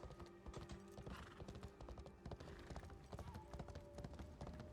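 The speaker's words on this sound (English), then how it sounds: "And ride the horse." A horse's hooves clip-clop at a steady walking rhythm in a video game, with a faint whinny mixed in. Soft game music plays underneath, and the whole scene stays fairly quiet.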